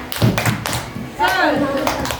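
Children at a storytelling session clap a few sharp, rhythmic beats as part of a chant, followed by voices chanting together right after the claps.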